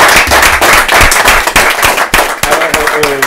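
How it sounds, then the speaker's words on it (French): An audience claps at a French TV set after a young performer named Marie speaks, dense crackling applause that runs loud and steady throughout, with a brief tonal voice surfacing near the end. "On l'applaudit, Marie."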